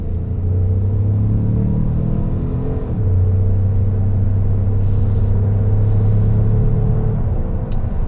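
A 2019 Ford Explorer Sport with a 3.5-liter EcoBoost engine pulls onto an interstate, a steady loud low engine drone and road rumble from inside the cabin, with one brief dip in pitch around a gear change.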